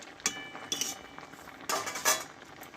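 A metal spatula cuts through boiled jackfruit in a metal pot, producing a handful of short, close scrapes and clinks against the pot in an uneven rhythm.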